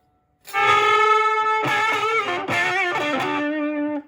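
An electric guitar is played through a Fender Champion 20 amp on its 80s Marshall British-style overdrive model, giving distorted, ringing chords that sustain and change a few times before ending.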